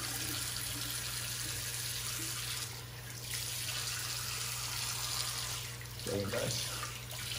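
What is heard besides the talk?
running water rinsing a razor between shaving passes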